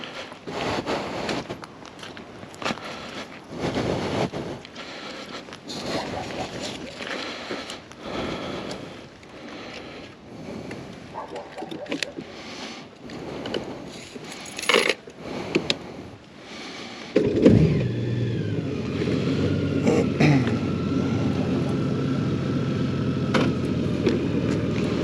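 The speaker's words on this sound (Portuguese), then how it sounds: "Deixa-me só por aqui a moto a trabalhar e continuamos já a falar." A motorcycle engine left running at idle, a steady low rumble that starts partway through and continues to the end after a stretch of handling noise and rustling.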